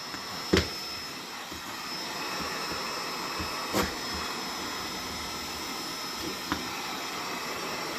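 A heat gun on a high setting blows a steady, loud hiss while warming linoleum flooring laid over a wood subfloor, with a few sharp clicks or knocks near the start and middle.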